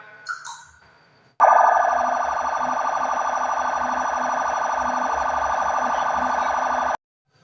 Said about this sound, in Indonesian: ini merupakan sirine untuk pengamanan ataupun pengawalan